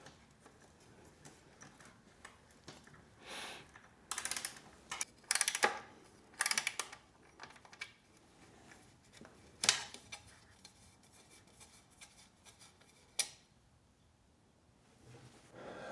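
Bolts are removed from the fender of a 2025 Triumph Scrambler 1200 XE, with several short bursts of ratcheting clicks from a hand tool separated by quiet pauses, close and moderately loud.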